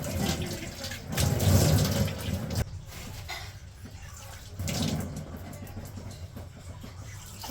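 Tap water runs into a sink while a woman rinses turmeric paste off her face, a steady splashing wash that swells louder in two bursts and then settles to a softer flow.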